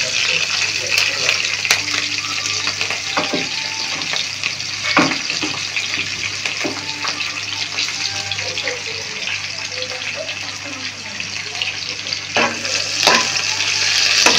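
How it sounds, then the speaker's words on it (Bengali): Chopped onions and green chillies sizzle in hot oil for a fish bhuna, a loud, continuous crackling hiss up close with occasional stirring clinks throughout. "আর তেল গরম হয়ে গেছে, আমি এর মধ্যে দিয়ে দিচ্ছি কাটা পেঁয়াজ আর কাঁচামরিচ।"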